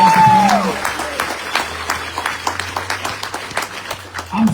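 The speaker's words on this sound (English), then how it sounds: "So everyone give applause for the Foundry Opelika family." Applause for a host family at an outdoor peace-sharing gathering in Opelika, Alabama, scattered claps that start after a loud opening sound and fade to sparse, thinning clapping over low background hum.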